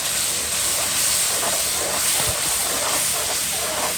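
Garlic and tomato paste fry in a pan for a vegetable and dried fish curry, producing a loud, constant hissing sizzle that stays steady and close with no talking.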